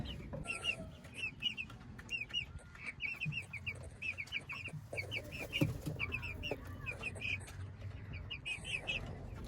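Backyard flock of chickens and roosters, repeated clucks and short calls scattered across the clip at close range, with faint talking and rustling underneath.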